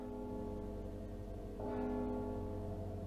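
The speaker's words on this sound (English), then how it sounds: "Don't you hear the bell?" A tolling bell rings in a video game, a sustained metallic tone with long ringing overtones that swells in loudness partway through, heard alone with no talk.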